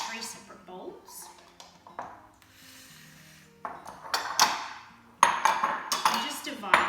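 Bath bomb dry ingredients being divided into separate bowls, with scattered scraping, clinking and tapping of bowls and utensils, close and uneven in rhythm.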